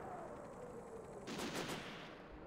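Automatic gunfire in the video game Disaster Report, a dense burst of rapid shots over a steady ambient background, rising briefly in the middle of the short stretch.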